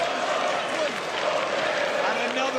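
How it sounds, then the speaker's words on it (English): Boxing arena crowd at the Nick Ball vs TJ Doheny fight roaring and applauding in a steady, dense wash of cheering noise throughout, with a commentator's voice talking over it. "and the crowd getting behind him"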